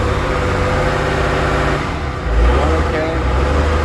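An engine started at raised RPM keeps running with a steady low rumble and a brief deeper surge near the end, close by, with someone talking over it.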